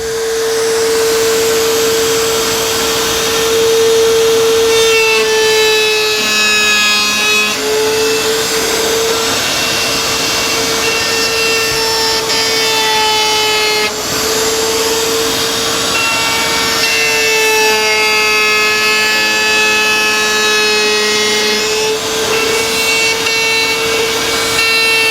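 A router with a bearing-guided bit trims the overhanging edge of a plywood zero-clearance insert for a tablesaw, sitting on the old throat plate. A loud, steady whine runs throughout with slight dips in pitch as the cut progresses.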